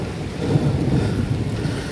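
Deep thunder rumbles steadily through a strong storm in Guatemala, a continuous low roll mixed with wind and rain noise, with no talking.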